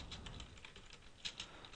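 Keys are tapped on a computer keyboard in a quick series of soft, close clicks, typing a shortcut with no talking.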